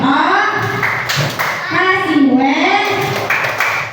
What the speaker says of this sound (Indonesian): Kita kasih tepuk wow buat kelompok 3